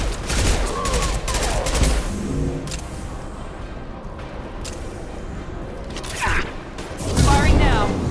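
Gunfire and explosions in the video game Mass Effect 2, with bursts of rapid shots and booms scattered through the clip, mixed with game music and character voices speaking over the combat.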